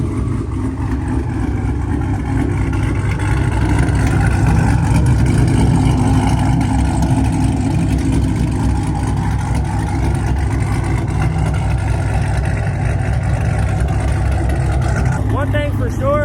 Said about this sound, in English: I would never ever get tired of this cam chop at all